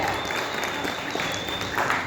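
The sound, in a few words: audience applause requested for the Kannappa film team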